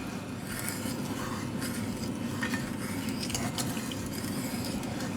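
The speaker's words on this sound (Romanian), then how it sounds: "Deci acum amestecăm până se topește zahărul sau zahărul" Sugar being stirred in a pot until it melts, making homemade Turkish delight, with continuous scraping and rubbing of a utensil against the pot, fairly faint and steady, no talk.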